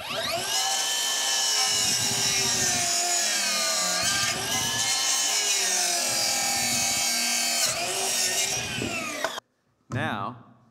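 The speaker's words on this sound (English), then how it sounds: "I'm not gonna force the saw, but I'm gonna ride right along the cut." A power saw whines steadily at high pitch while cutting a wooden 2x4 at a steep bevel angle, the blade's tone dipping slightly with the load, then stopping abruptly before a brief restart.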